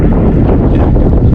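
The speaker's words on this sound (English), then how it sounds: "Starting to get windy, starting to pick up" Gusty wind rising over open water at a bay during kayak fishing, a steady loud broadband rush buffeting the microphone with no one speaking.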